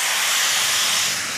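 A Celesta Airstyler hair styler blowing hot air: a steady, loud, breathy hiss of rushing air that holds even throughout without pause.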